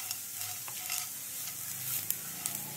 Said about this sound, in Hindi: अब उसमें रोस्टेड चना डालते हैं।